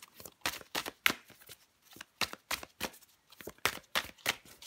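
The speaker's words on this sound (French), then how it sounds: "je prends encore une carte pour vous" Tarot cards riffled and shuffled by hand, a quick run of crisp papery flutters and snaps in close, irregular bursts with brief pauses between them, and no voices.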